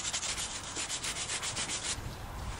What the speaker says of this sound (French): Juste je le mouille et après je frotte?